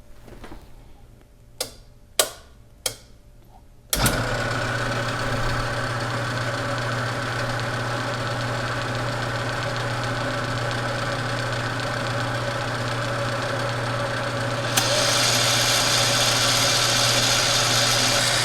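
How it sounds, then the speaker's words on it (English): A coil winding machine spins a P.A.F. guitar pickup bobbin, starting abruptly after a few faint clicks and then running as a steady, loud mechanical whir with a constant hum, its tone brightening near the end. "Let's switch on the machine and we will come back after there's a few hundred turns on this."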